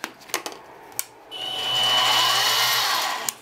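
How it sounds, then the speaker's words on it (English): A Harbor Freight mini milling machine switching on after a few sharp clicks and taps, its motor spinning up into a steady close whine and hum that holds to the end. "So go ahead and turn on the machine."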